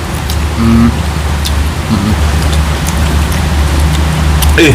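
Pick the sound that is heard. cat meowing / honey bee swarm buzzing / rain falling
rain falling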